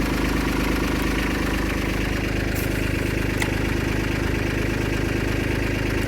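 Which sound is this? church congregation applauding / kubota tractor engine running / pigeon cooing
kubota tractor engine running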